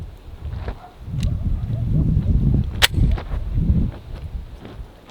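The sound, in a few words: Glock 22 firing a 165 grain hollow point into a watermelon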